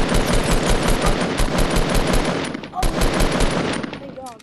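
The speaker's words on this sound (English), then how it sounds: "We're being sniped as well." Rapid automatic gunfire crackles in dense, loud bursts during a video game firefight with sniping, pausing briefly before another volley resumes.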